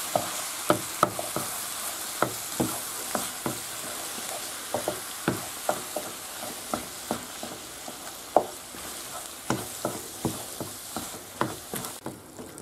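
Chard being stirred with paprika in a frying pan, a steady sizzle broken by repeated sharp scrapes and clacks of the utensil at an irregular rhythm, close and fairly loud, with no talking.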